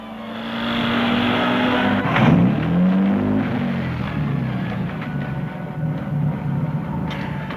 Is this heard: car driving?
yes